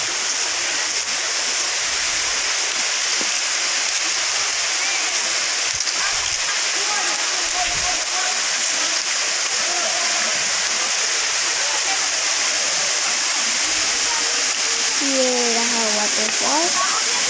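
Steady broadband rush of a waterfall at Kangthilangsu in Assam, loud and continuous throughout, with a person speaking over it and occasional louder splashes.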